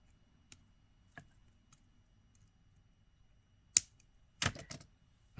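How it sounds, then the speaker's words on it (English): Small cutters snipping excess wire off a handmade beaded necklace, a few faint ticks giving way to one crisp close snip and then a short cluster of sharper clicks. "Cut this excess wire off."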